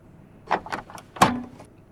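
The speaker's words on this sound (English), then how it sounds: "Close the door." An aircraft door in the Prepar3D flight simulator is handled and shut at Blue Canyon airport, with a few soft clunks and rattles followed by one firmer latching thud, close and otherwise quiet.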